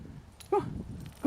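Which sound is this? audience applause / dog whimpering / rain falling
dog whimpering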